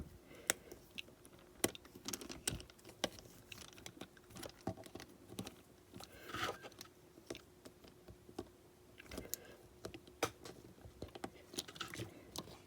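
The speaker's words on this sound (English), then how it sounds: "I found a little tool that I had that fit in the stripped spots, so I could just insert it and twist." Small tool clicks and scrapes on stripped screws while taking apart a Life Like Union Pacific F40 model locomotive: sparse, sharp ticks and light taps at an uneven pace, close and quiet, with no talking.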